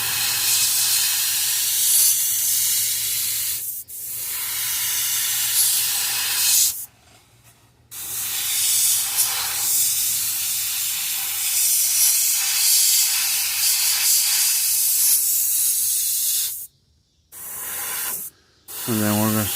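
A paint spray gun hisses steadily as it coats a largemouth bass fishing lure, in long continuous bursts with a few brief stops.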